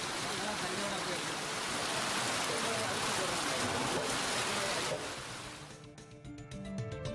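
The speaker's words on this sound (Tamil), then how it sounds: "சென்னை மற்றும் புறநகர் பகுதிகளில் பலத்த காற்றுடன் மழை பெய்தது" Heavy rain driven by strong wind in Chennai, a dense, loud hiss of downpour filling the clip, fading out near the end as music takes over.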